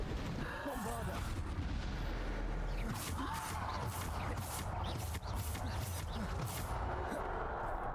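Spell blasts from Hogwarts Legacy, the Bombarda explosion among them, come as repeated sharp booming bursts over a dense, loud wash of game combat noise, with a voice speaking throughout.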